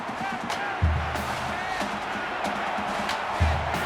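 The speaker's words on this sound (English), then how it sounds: "This crowd can really be intimidating for an opposing team." A stadium crowd in the football video game NCAA 14 roars during a Vanderbilt at Alabama matchup, a continuous loud cheering bed with repeated low thumps, under a commentator's play-by-play talk.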